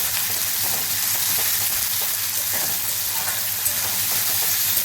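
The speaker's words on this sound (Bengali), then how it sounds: "আমি এখানে আদা রসুন পেঁয়াজ আর কাঁচা লঙ্কা পেস্ট নিয়েছি।" A paste of ginger, garlic, onion and green chili fries in a pan for an egg curry, giving a steady, dense sizzle that carries on evenly throughout.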